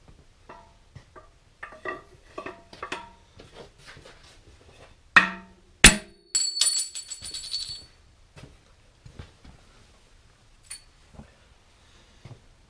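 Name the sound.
hammering out engine expansion plug with old wooden dowel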